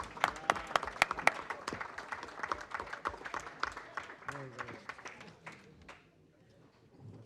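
Audience applause at a public talk in Barcelona, dense clapping from a crowd that swells early and then thins out, fading to near silence by the end.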